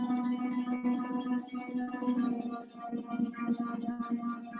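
A harp plays a trill with two pedals changed at once, giving soft, rapidly alternating plucked notes over a steady low ringing tone, faint and reverberant, with no voices.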